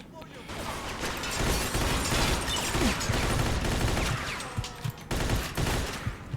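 Thompson M1A1 submachine gun fire in the Mafia 2 video game: dense, sustained bursts of automatic gunfire with sharp cracks and impacts, loud and continuous with a brief pause near the end.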